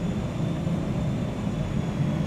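Jet plane from PowerWash Simulator roaring past, a continuous loud broadband engine roar holding steady throughout, with no voices over it.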